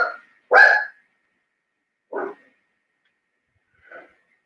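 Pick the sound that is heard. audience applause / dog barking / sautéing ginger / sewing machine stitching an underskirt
dog barking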